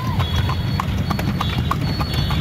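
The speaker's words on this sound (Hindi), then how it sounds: "यही घोड़ा था" Horse hooves clip-clop in a steady, rhythmic trot as a horse pulls a tanga through the streets of Hussainabad in Lucknow, over constant road rumble with faint voices in the background.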